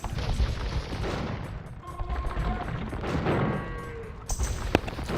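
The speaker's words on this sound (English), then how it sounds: "And the first bombard cannons hitting the castle." Bombard cannons hit a castle in the Age of Empires strategy game, Celts against Portuguese: dense rumbling impacts and crumbling stone under a steady battle din, with one sharp blast near the end.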